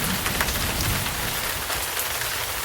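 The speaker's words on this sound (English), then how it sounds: "That was a rain shower in Florida." A heavy rain shower in Florida pours down as a dense, loud, continuous hiss of drops hitting surfaces, steady throughout with no voices.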